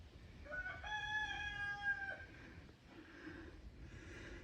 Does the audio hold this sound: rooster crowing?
yes